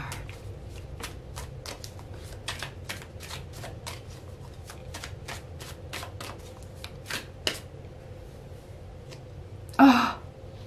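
Tarot cards being shuffled by hand, a steady run of crisp riffling flutters, close and fairly quiet, ending with one louder rustle.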